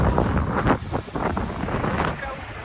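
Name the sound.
strong wind buffeting microphone on coast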